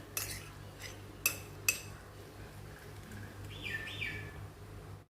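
A spoon stirs chili chutney with salt and vinegar in a bowl, giving a few sharp metallic clinks and soft scraping, while birds chirp faintly in the background.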